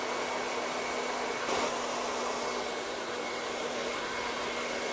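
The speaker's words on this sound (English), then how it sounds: "I'm just going to use some cold air from my hairdryer" A hair dryer blows continuously while hair is wound around a round brush for curling, a steady loud whoosh with a brief bump in airflow partway through and no talk.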